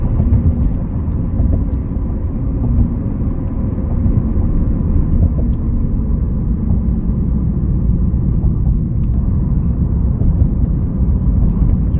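Lexus IS200 2.0T sedan in sport mode accelerating hard over bumpy roads, a steady loud engine drone and road rumble heard from the cabin.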